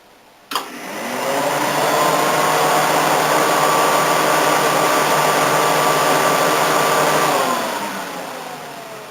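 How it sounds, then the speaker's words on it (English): A Mazda 323 wagon's air conditioning kicks in with a click, then fans and compressor roar steadily and loudly before easing down slightly at the end. "if I turn on the air conditioning, you can hear the fans and the compressor lock in"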